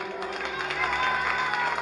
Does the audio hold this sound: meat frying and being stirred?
no